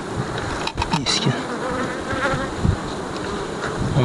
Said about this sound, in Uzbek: Hozir mana kelib shu eski ona arilarni olib yangi ona ari olib kelganmiz